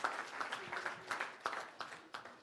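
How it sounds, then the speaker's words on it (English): Brief, fairly quiet applause fills a room at a mayoral event on a senior citizen homeowner tax exemption, with a few distinct claps punctuating the short burst before it fades. "So let's give all these great folks a round of applause and thank them."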